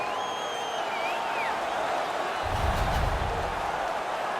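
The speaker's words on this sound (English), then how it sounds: "The home crowd is ecstatic. They're making all kinds of noise." A home hockey crowd in NHL 19 roars in a steady, dense wash of cheering and noise, swelling briefly with a low thump midway and a faint whistle-like tone early on.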